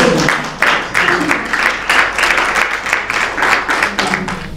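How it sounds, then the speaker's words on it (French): An audience at a gathering applauds a couple married 34 years, a dense, fairly loud burst of many hands clapping at close range, with some voices mixed in. "Est-ce qu'on peut applaudir ça?"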